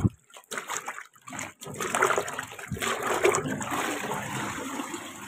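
A suit blazer being rinsed in water during a laundry dry-cleaning process, with splashing and sloshing water building up and running steadily for several seconds after a couple of brief bursts, close and fairly loud.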